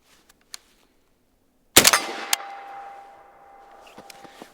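A single rifle shot fired through a Dead Air Primal suppressor cracks loudly, then a sharp metallic ping follows as the round strikes a steel target downrange, with a decaying ring and reverberation. A few faint clicks precede the shot.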